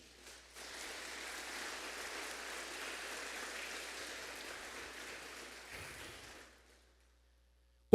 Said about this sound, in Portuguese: Dá um aplauso ao Senhor aí, irmão.